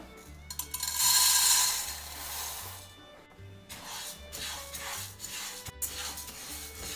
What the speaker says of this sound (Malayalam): അപ്പോൾ ആദ്യം നമുക്ക് ഉഴുന്ന് വറുത്തെടുക്കാം.